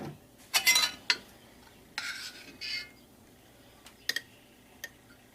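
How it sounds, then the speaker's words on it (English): A spoon scooping food into a container while canning: a few close scraping, clinking strokes in short bursts, then scattered light ticks and taps against the vessel, separated by quiet pauses. "I'm using a spoon now to spoon some of this in"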